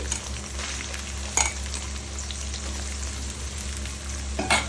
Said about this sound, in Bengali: এবার কড়াইতে তেল গরম করে